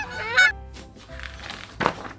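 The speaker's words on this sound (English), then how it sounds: "Goose!" A goose honks loudly once near the start, followed by quieter scattered rustles and a brief louder burst later, with no talking.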